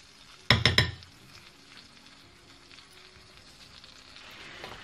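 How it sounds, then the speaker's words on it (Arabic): Meat fries in a pot for a Moroccan pea and potato tajine, a burst of stirring clatter and sizzle in a few quick scrapes near the start, then fading to a quiet background simmer. "نقليو اللحم بشويه بشويه."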